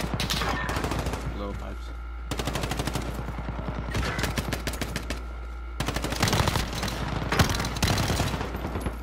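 Rapid automatic gunfire from a 2v2 video game gunfight, loud bursts of shots in dense volleys separated by short pauses, with a steady low hum underneath and a person talking over it.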